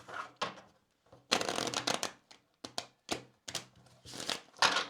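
Kipper cards are shuffled and pulled by hand in a quiet room during a tarot-style reading, giving a run of crisp riffling and rustling bursts with short pauses between them.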